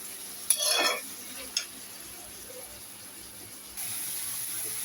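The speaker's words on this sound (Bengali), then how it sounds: "30 মিনিট ম্যারিনেট করার পর আমি হালকা একটু ভাজা দিয়ে নেব।" Marinated chicken for momo fries in a pan. A brief scrape comes early, then a quiet stretch, then a steady, faint sizzle near the end.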